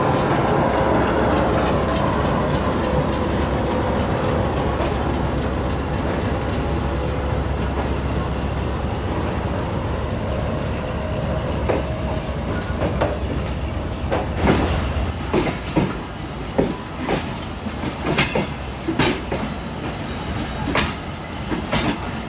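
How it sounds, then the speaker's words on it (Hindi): Pak Business Express pulling out of Khanewal Junction, a loud steady rumble that gives way to rhythmic wheel clicks and clatter as the train moves over the rails and gathers speed. "अब पाक बिजनेस एक्सप्रेस खानेवाल जंक्शन छोड़ रही है"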